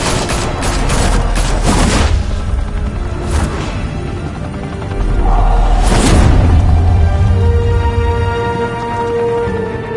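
Heavy gunfire rattles through a Batman video game, with dense overlapping bursts and booming impacts in rapid succession, loud and close, with a whooshing swell in the middle.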